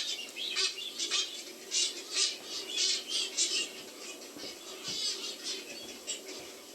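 Seabirds calling on a coral island in the Chagos, a chorus of repeated squawks and chirps at moderate distance with faint wing flaps, layered over a steady airy background, no talk.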